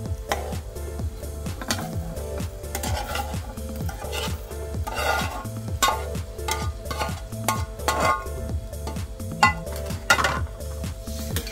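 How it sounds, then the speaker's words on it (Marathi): Egg bhurji being stirred into a watery curry in a pan, with a steady run of rhythmic scraping and rubbing strokes against the metal throughout and no talking. "आपण अंड्याची जी ही भुर्जी करून ठेवलेली आहे ती याच्यामध्ये मिक्स करायची."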